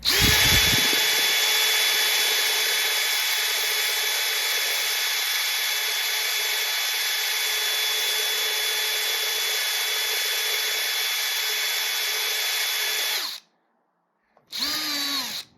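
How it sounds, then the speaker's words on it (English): A power drill with a right-handed bit whines loudly and continuously for about thirteen seconds while drilling out a shredded screw head, cuts out abruptly, then starts again briefly at a lower pitch. "putting pressure on, I can see it drilling something out"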